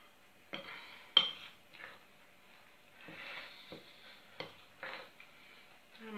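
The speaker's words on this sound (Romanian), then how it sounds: "Amestecăm totul bine" Buckwheat bread dough being stirred in a bowl with a utensil, making soft repeated wet scrapes and occasional light clinks against the bowl, close and quiet.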